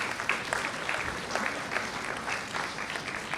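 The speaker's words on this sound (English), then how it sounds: "Please give a huge applause to these students" Audience applause at an awards event honoring students, faculty and industry mentors, a sustained dense clapping that swells and ebbs slightly, with no talk over it.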